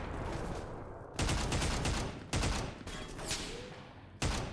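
Rapid bursts of gunfire from the shooter game Entropy: Zero 2 come in four dense volleys, loud and close, separated by short gaps with no talking.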